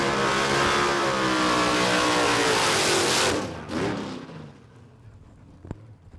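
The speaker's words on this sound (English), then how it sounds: "late model Hemi, it definitely got a nice set of lungs on it." A Dodge Drag Pack with a 354 late model Hemi revs hard at a drag racing event, a loud sustained roar for about three seconds that then drops away and fades into quieter background noise.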